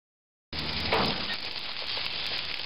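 Homemade burgers seasoned with onions, garlic, salt and pepper hit a hot griddle and break into a steady, loud sizzle that starts abruptly and continues evenly, with no voices.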